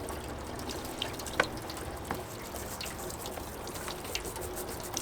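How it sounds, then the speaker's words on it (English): Tap water running steadily during teeth brushing, a continuous soft splashing hiss with occasional drips and small knocks, moderately close and without talk. "The water is running."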